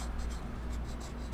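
A pencil scratches across paper in a series of short, quiet strokes with a steady rhythm, set against a low background hum.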